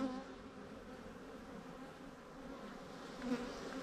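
Honeybees buzzing around a beehive in a beeyard, a steady, fairly faint droning hum from many bees close by, with a slight swell near the end.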